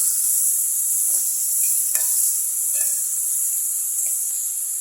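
Chopped onions sauté with a little salt in a hot pan: a steady, even sizzle with a bright hiss runs throughout, broken by a few faint clicks and stirring scrapes, with no talking.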